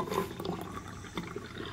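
Hot water pours into a glass in a short, steady, splashing trickle heard up close for under two seconds.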